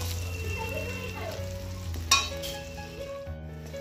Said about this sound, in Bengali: এখন এই শুকনো মাছগুলো দিয়ে দিলাম। এগুলো বেশি ভাজবো না